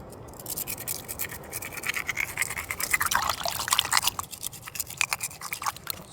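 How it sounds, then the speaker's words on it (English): Two mussel shells rubbed together to scrape off barnacles: close, rapid gritty scraping strokes in irregular bursts, with faint wet sounds from a bowl of water, and no talking. "if you rub two mussels together, you can easily take those barnacles off."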